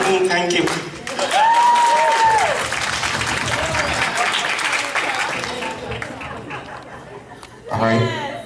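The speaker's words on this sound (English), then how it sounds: "Let's give a round of applause" Guests at a 70th birthday party applaud amid crowd chatter and some laughter, with voices talking over the clapping and a louder burst near the end.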